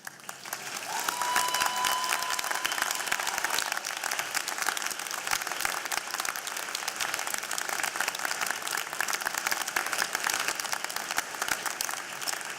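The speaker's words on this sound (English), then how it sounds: "give them a round of applause" Steady, dense applause from a large crowd at a convocation ceremony, sustained throughout without a break.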